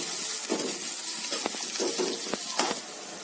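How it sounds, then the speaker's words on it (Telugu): Banana flower sizzling and frying in a pan with chana dal, a steady close hiss of hot oil with occasional stirring clatters and small pops, no voices. "ఇప్పుడు ఈ వేగినటువంటి శనగపప్పులోకి, వేగుతున్న శనగపప్పులోకి ఈ అరటి పువ్వు కూడాను మనం వేసుకున్నాము."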